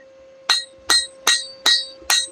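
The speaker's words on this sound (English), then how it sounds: "why did you let the hammer hit the anvil between hitting?" A blacksmith's hammer strikes steadily on an anvil, five bright ringing blows about 0.4 seconds apart, each followed by a quick bounce off the anvil, loud and close, with a faint hum underneath.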